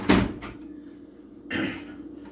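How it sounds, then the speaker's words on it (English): A bathroom door is shut at home, with a sharp close-up thud at the start, a lighter knock after it and a rustling, shuffling sound about a second later. "I'm gonna shut the door."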